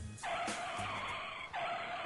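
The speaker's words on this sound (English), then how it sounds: "Keep moving or hit the brakes." Car tires screech in a skid as if braking hard, two sustained squeals, the first long and the second starting just after a brief dip, loud and close with no voices.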